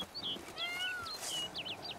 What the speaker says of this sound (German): Das war doch nicht der Panther, der so gemauzt hat, oder?